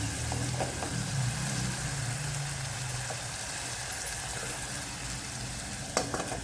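Tomato and vegetables sautéing in a pan while cooking a fresh pigeon pea pod curry: a steady, broad frying hiss holds throughout with a faint low hum, plus a sharper clink near the end.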